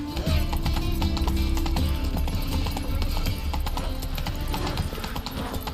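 Horse hooves galloping in The Witcher 3: Wild Hunt, a steady, loud, rapid clip-clop rhythm that runs continuously throughout with game ambience layered underneath.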